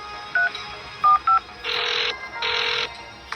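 Touch-tone telephone keypad being dialed: three short beeps, then two longer tones, close and clear with no talking.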